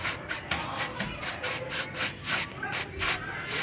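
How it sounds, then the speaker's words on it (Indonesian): A dry brush scrubs moss and crust off a corrugated asbestos cement roof in quick, regular back-and-forth strokes, close and scratchy, with no talking. "Kita bersihkan pakai kuas kering."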